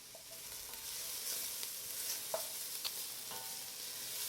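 Vegetables for turkey stock softening in a pot, a soft, steady sizzle and bubble with a few light clinks and stirring taps, fairly quiet and without talk.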